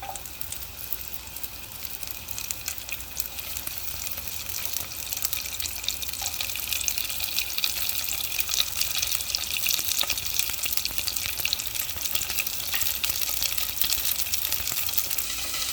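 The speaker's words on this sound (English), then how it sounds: "our ginger and garlic is sizzling now" Steady hissing sizzle of ginger and garlic frying in a hot pan, broadband and continuous, growing slightly louder after the first few seconds, with no voices.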